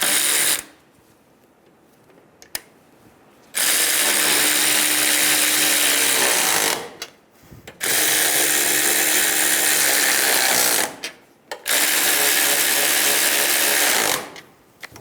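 A power tool on a 2000-2007 Ford Focus snugs down front strut nuts in three loud, sustained bursts of whirring and rattling, separated by short pauses.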